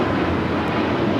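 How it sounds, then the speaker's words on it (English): A JetBlue Airbus A321neo bound for Boston departs LAX, a steady broadband jet roar heard at moderate distance, continuous and even across the moment. "That was JetBlue heading to Boston in an A321neo flight 288"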